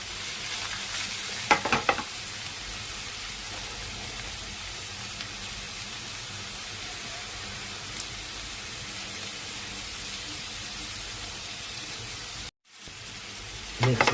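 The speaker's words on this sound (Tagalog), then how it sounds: "Mix natin yung kamatis." Tomatoes stirred into a pot of salmon-head sinigang over steady, loud sizzling and bubbling, with a couple of brief scraping clatters near the start and a short cut near the end.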